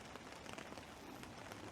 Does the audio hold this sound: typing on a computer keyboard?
no